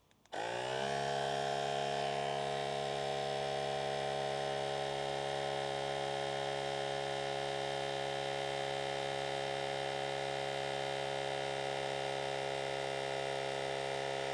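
A steady, loud motor drone with a strong electrical hum from an ASMAX portable 160 PSI tyre inflator air compressor, starting abruptly and running continuously without pause.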